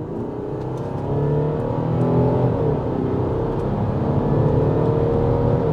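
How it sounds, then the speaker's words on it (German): An Audi A6 3.0 TDI Competition diesel engine pulls hard under full throttle from 60 km/h, its steady drone rising in pitch as it accelerates, heard from inside the cabin. "Kick, ich gebe jetzt Vollgas."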